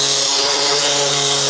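A power sander works steadily on the bodywork of a cheaply bought tractor during restoration, a loud continuous whirring drone with no pauses and no talk.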